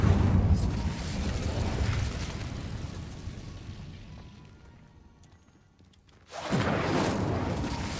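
Incendio fire spell cast in Hogwarts Legacy, heard as a loud roaring blast that fades over several seconds, then a second sudden, forceful burst near the end.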